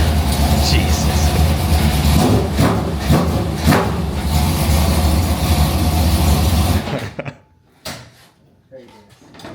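A NASCAR spec truck race car revving hard, a loud, harsh, sustained engine roar that cuts off abruptly near the end, followed by quieter rattles and brief speech.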